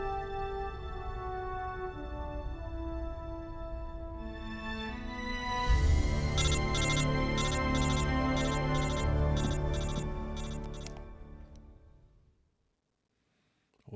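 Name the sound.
phone ringing in Metal Gear Solid Delta video game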